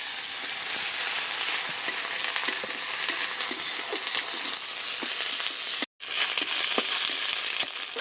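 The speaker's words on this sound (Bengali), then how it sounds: "আদা রসুন বাটা দিয়ে আমি আবারও বেশ সুন্দর করে একটু কষে নিয়েছি" Ginger-garlic paste and onions fry in a pan, giving a dense, constant sizzle with light stirring scrapes, briefly cut off once before carrying on, with no voices.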